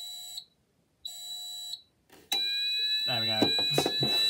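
Fire alarm panel buzzer on a rebranded Menvier MF400 sounds in repeated tonal bursts, then switches to a continuous high-pitched tone while someone talks over it nearby.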